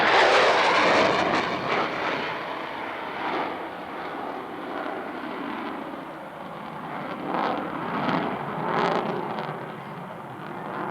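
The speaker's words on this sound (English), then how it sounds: "This is the Tomcat Warp 9 pass and vertical departure, coming up at a high rate of noise" An F-14 Tomcat jet roars past on a high-speed airshow pass, loud and broadband, its engine rumble swelling and fading in waves as it passes.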